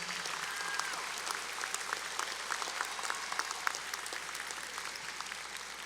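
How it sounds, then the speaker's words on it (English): Applause from a large graduation ceremony audience at Palo Alto College, steady and fairly faint, like a distant hall full of clapping with dense overlapping claps and no talk over it. "Let's give all of these folks a big round of applause for all of their efforts."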